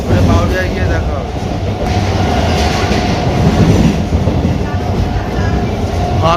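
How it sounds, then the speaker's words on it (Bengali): A mostly empty passenger train runs steadily along the rails, giving a continuous low rumble with a faint rhythmic clatter. A voice is heard over it now and then. "অবশেষে আমরা ট্রেন পেলাম"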